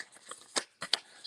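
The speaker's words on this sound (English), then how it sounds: "Shuffle them cards." Playing cards riffled and shuffled in two quick bursts, crisp papery flutters with a soft patter between them, close and fairly quiet.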